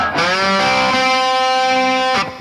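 A single sustained electric guitar note rings out loudly, its pitch sliding upward at the start before holding steady and cutting off.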